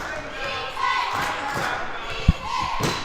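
Crowd at a girls' high school basketball game, a sustained murmur and cheering in a gym with a single ball bounce thud and squeaks, under an announcer's commentary.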